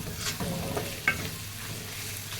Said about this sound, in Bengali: চিংড়ি মাছটা ভাজা ভাজা হয়ে গেছে